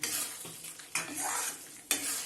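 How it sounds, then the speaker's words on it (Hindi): Moong dal halwa with raisins and fried dry fruits is stir-fried in ghee, with a soft sizzle under two or three sharp spatula scrapes against the pan, close and fairly quiet. "इसको हम और अभी भून लेंगे।"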